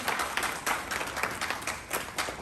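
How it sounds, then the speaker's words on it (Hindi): Audience clapping at an awards-style gathering, a moderate mix of separate claps forming steady applause, fairly near. "प्लीज एक बार जोरदार तालियां आप सभी के लिए।"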